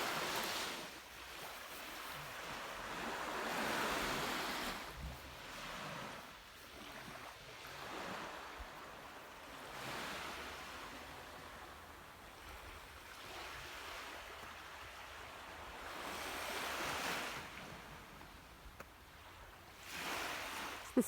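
Sea waves rolling onto a pebbly beach, soft surges swelling and receding every few seconds with light wind, distant and gentle, no talking.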